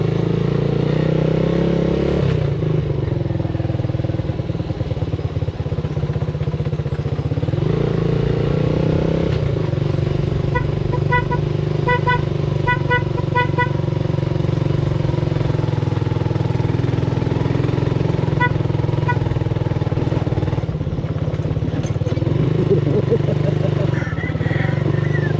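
Motorcycle engine running steadily near the listener, a continuous low rumble with clattering overtones throughout, with voices talking over it in a Filipino backyard setting.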